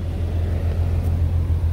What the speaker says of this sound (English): so now since the car's running